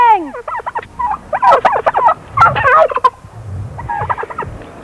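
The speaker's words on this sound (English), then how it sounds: "Those are my turkeys." Several domestic turkeys kept on a small farm in West Virginia gobble in overlapping bursts, close and loud, with rattling calls layered over one another and a quieter cluster near the end; no talking.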